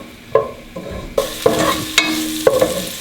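Garlic and ginger stirred in a hot cooking pan for a vegetable curry, with a quick run of sharp scraping strokes about every half second over a soft sizzle, close and loud with no voices.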